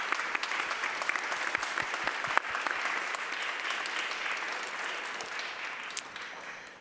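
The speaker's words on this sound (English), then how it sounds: "I think we should give them some applause," An audience at a premiere discussion applauds steadily for several seconds, dense clapping at a consistent level that tapers slightly toward the end.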